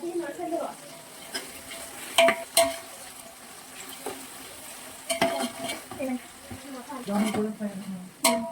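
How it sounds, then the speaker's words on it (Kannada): Onions frying in a pan for biryani in a home kitchen, a moderate sizzle broken by sharp stirring clatters of a utensil against the pan, with people talking in the background. "ಆನಿಯನ್ಸ್ನೆಲ್ಲ ಫ್ರೈ ಮಾಡಬೇಕು"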